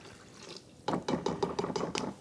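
A cup of water poured into a bowl of bread dough ingredients with quinoa, honey and oil: a soft splashing pour under a quiet hiss, then a run of close, gurgling splats for about a second and a half.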